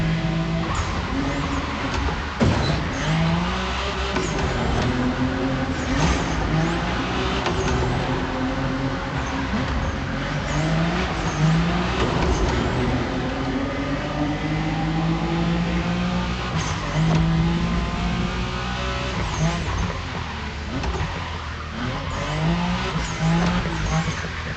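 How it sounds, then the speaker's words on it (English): A car drifting in The Crew Motorfest video game, engine droning steadily while tires squeal in repeated rising and falling sweeps through long oversteer slides, moderately loud throughout. "Don't you forget, it's all about drifting."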